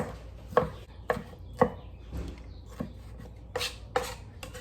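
A knife chops pineapple into small pieces on a board, sharp distinct thuds at an irregular rhythm, close and clear with no voices.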